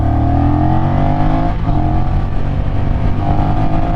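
A loud, close Honda CMX1100 motorcycle exhaust rumbles steadily, its deep engine note shifting slightly in pitch as the bike rides along.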